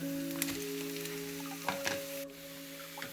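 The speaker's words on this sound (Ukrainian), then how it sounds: "На пательню з оливкою олійкою додаю цибульку, обсмажую до золотистого кольору та додаю моркву" Onion and carrot fry in olive oil in a pan, a soft steady sizzle with a few faint stirring scrapes, close and alone under a constant low hum.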